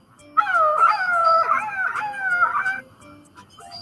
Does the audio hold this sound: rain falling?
no